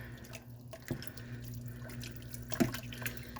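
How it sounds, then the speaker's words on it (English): A spoon stirs macaroni vegetable beef soup with browned ground beef in a pot, giving quiet liquid sloshing with two soft clinks against the pot and a faint steady background hum. "So I'm just going to give this all a good stir."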